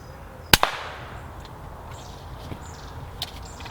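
A single sharp, loud air rifle shot cracks outdoors during squirrel pest control, followed by a brief smack, then quiet ambience with faint distant bird chirps and a few light ticks.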